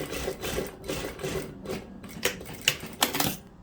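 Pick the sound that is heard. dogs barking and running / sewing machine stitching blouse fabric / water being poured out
sewing machine stitching blouse fabric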